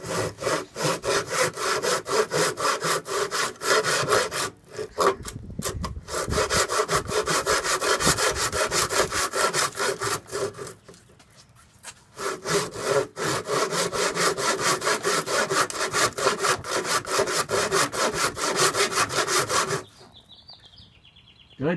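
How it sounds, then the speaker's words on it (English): A hand saw cutting through wood in steady back-and-forth strokes, close and loud, run by an apprentice carpenter with brief pauses around 5, 11–12 and 20 seconds. "Start sawing again"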